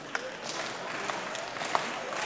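A capacity live crowd at a WCPW wrestling show claps and cheers to rally behind wrestler Gabriel Kidd, with a commentator talking over the steady, fairly distant applause.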